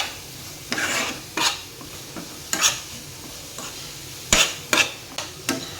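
A spoon scrapes and clinks against a pan as chopped vegetables for diet momo filling are stirred over low heat, giving a series of irregular, close knocks and scrapes over a faint background sizzle.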